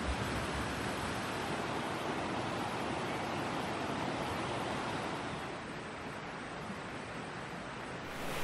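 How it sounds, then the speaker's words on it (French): A powerful mountain torrent rushes close by, a loud, unbroken roar of churning water that stays constant throughout and softens only slightly near the end. "J'espère que vous m'entendrez bien malgré la puissance du torrent qui coule à côté de moi"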